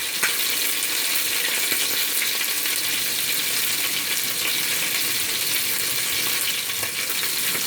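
Collard greens with orange zest, half an orange and a quarter cup of water sizzle and hiss in a hot pan, a steady, close frying sound without speech.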